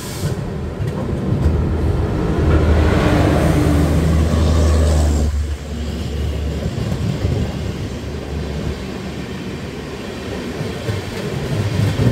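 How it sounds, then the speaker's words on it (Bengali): The Howrah–Puri Shatabdi Express rumbles past close by, a loud steady roar with rattling wheels for several seconds, then fading into a quieter rolling hum. "ক্রস করছে হাওড়া পুরী শতাব্দী এক্সপ্রেস"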